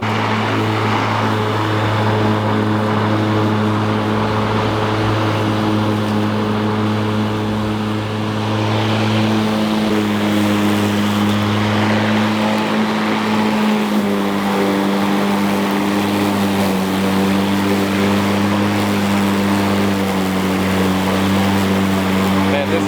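A Craftsman V60 battery-powered lawn mower with a steel blade runs steadily and loudly close by, its motor hum holding a constant drone that shifts pitch slightly partway through, with no talk over it.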